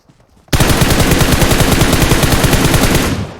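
Rapid automatic gunfire from PUBG Mobile, a loud, dense burst of shots that starts abruptly after a short quiet lead-in and keeps firing steadily for about three seconds.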